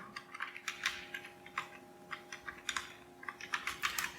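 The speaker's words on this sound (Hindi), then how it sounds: "यहाँ पे हम एक और लाइन लिख देते हैं system dot out dot print Elon" Java code is typed on a computer keyboard, a quiet, close run of irregular key clicks in quick bursts over a faint steady hum, with no voices.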